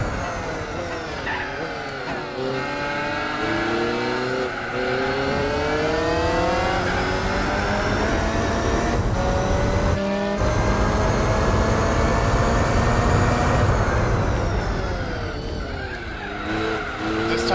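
A race car engine in Gran Turismo 4 holds a loud, steady high-revving drone while drafting behind a BMW, with pitch shifts and brief drops at gear changes and tire squeal.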